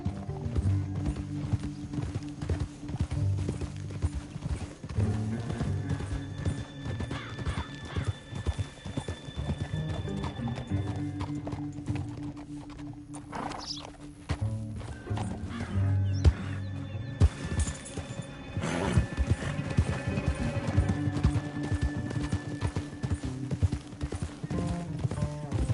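Horse hooves clip-clop steadily in the Red Dead Redemption 2 video game, with whinnies and neighs rising over layered music and ambient game sound throughout.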